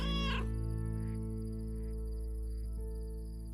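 Cats meow in the video game Lake, a loud close meow at the start followed by faint softer mews over a steady humming ambient background.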